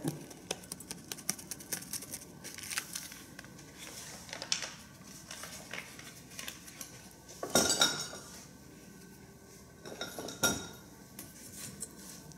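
A spoon scraping and clinking against a dish while plain jasmine rice is mixed with sprinkled Mrs. Dash chili seasoning, in irregular close strokes with a few louder clatters.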